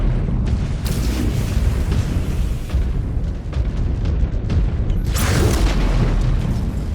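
A mech is destroyed in the video game MechWarrior 5: Clans, erupting in a loud, rumbling explosion with a sharp burst near the start and another blast toward the end.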